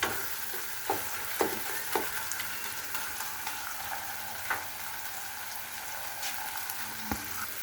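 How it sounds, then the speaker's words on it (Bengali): Minced chicken fries in a pan with a soft, steady sizzle, broken by a few sharp spatula clicks against the pan, heard close and alone. "মাংসের কিমাটাকে এখানে আমি একটু ভালোভাবে ভেজে নিচ্ছি"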